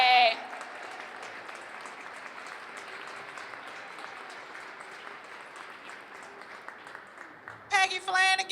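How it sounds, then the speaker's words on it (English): Audience applause at a Black Entrepreneurs Day event at the Capitol, steady dense clapping throughout at moderate loudness, with brief cheering whoops near the start and end. "Let's give this amazing woman a round of applause."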